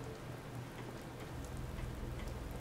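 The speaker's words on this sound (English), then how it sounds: "It's raining again." Steady rain in the video game Fallout 4 patters on a surface, a soft, even hiss with scattered drops and a low rumble beneath, without any voices.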